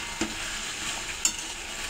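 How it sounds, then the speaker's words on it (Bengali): Chicken curry with potatoes sautéing in a pan, with a steady close sizzle and a couple of light stirring scrapes. "চলো এরপর কষানো যাক, সুন্দর করে"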